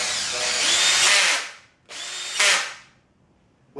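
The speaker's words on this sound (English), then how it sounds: "when you go to drill in a screw" A cordless power drill spins up to drive a screw into wood, a loud whining motor burst followed by a short pause and a second shorter run that cuts off abruptly, with a faint click at the end.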